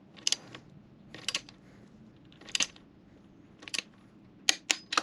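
A torque wrench ratchets bolts on a DRZ400 engine to 34 pounds, giving short bursts of sharp metallic clicking at a steady close pace.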